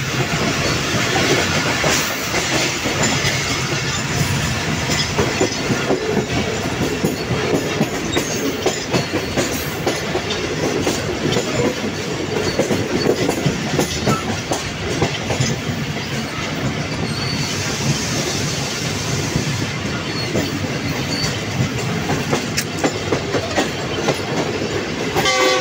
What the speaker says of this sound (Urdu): زبردست ٹریک ساؤنڈ کے ساتھ